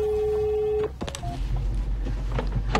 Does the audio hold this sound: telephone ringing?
yes